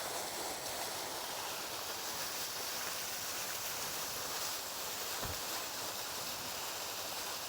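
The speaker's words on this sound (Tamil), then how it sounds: "தண்ணி சாமையாக விழுகுதுங்க." Water pouring down a falls near Malakkapara on the way to Athirapally, a dense, continuous roaring rush that stays steady and loud throughout with no voices.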